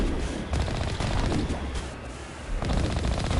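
Rapid, sustained tank turret gunfire from the Mako vehicle in the Mass Effect video game, dense bursts of shots rattling continuously and loudly with a brief dip before resuming.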